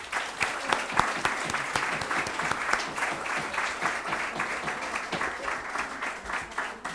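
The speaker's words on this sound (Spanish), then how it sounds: "vamos a darle un fuerte aplauso a nuestro querido conferenciante" Audience applause for a lecturer at a talk on the total solar eclipse of 12 August 2026: steady, dense clapping from many hands in a room, moderately loud, with no talk over it for the whole stretch.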